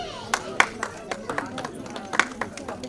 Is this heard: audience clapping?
yes